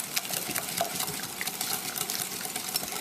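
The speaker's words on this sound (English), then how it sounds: "now we're just going to whisk that margarine into the mixture" A whisk scrapes and clicks around a bowl as melted margarine is beaten into pizzelle batter, quick rhythmic strokes sounding close and fairly quiet, with no talking.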